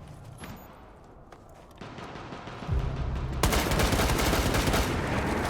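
Gunfire in a shooter video game, loud and dense in the second half with sustained rapid shots over a constant rumble, softer scattered shots earlier.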